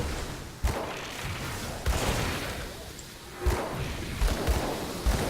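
Explosions erupt in the action role-playing game Grim Dawn, several sharp bursts spaced a second or two apart over a dense rumbling bed of combat effects, loud and close with no talk.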